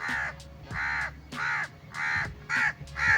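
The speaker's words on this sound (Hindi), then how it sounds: "अभी मैं खामोश होता हूँ और आपको कव्वों की आवाज़" Crows caw loudly in a tree overhead in a steady series of harsh, drawn-out calls, about one per half second, with faint background noise.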